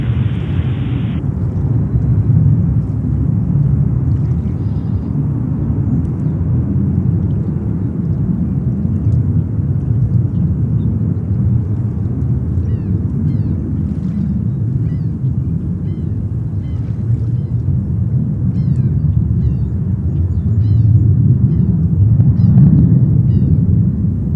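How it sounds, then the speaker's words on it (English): A JetBlue airliner takes off at JFK airport with a loud, steady, broadband jet rumble that roars on without a break and swells slightly toward the end. "JetBlue 1123, only 31 left, clear for takeoff"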